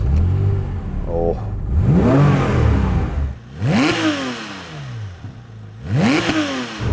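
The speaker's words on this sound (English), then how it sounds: "The GT3 RS gets a lightened single mass flywheel. As a result, the engine just revs more freely." A Porsche 911 GT3 RS flat-six with a lightened single-mass flywheel is blipped three times, each rev snapping sharply up and falling quickly back to a low idle, loud and close.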